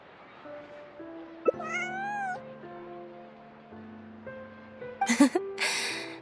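A cute kitty in a video game gives several soft, tonal meows, one rising and falling longer than the others, then a burst of brighter chirps and rustle near the end, quiet against a near-silent background.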